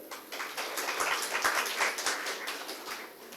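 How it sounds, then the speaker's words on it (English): A crowd claps steadily for several seconds at a life sciences conference, a dense patter of many hands with no voices over it. "So in a round of applause, please welcome"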